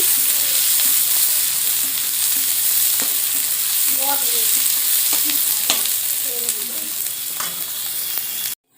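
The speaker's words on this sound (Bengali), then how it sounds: "পেঁয়াজগুলো একটু লাল লাল করে ভেজে নেব।" Onions fry until reddish in a pan with a continuous, even sizzle and hiss. Occasional light stirring taps and scrapes sound through it, and the sound cuts off abruptly at the end.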